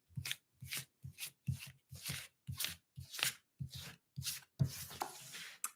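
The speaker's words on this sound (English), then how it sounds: "we need to shuffle, not all those cards at the same time" Tarot cards being shuffled in a series of about a dozen short, soft riffling bursts at a steady rhythm, quiet and close, with no talking.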